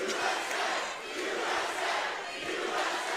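A crowd of protesters outside a campus speech at Michigan State University, shouting and chanting together in a dense, continuous roar that swells and dips slightly, loud and filling the space.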